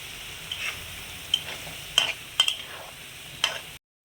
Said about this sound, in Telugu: ఇప్పుడు మనం ఇదంతా గుజ్జంతా ముక్కలకి పట్టేదాకా మనం ఫ్రై చేసుకుంటూ ఉండాలి